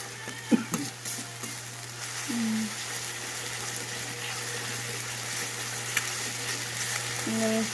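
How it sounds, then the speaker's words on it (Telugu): Masala for a fish curry fries in oil with a steady close sizzle and occasional stirring scrapes, while a faint steady hum runs underneath. "గోల్డెన్ కలర్లో వచ్చినాక ఫ్రై చేసుకోవాలి"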